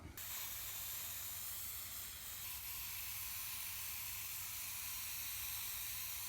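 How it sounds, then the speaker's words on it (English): Spray paint can hissing steadily as it coats a masked-off Oberheim OB-X synthesizer panel, a continuous close, even spray lasting several seconds without pause. "And I'll spray it again."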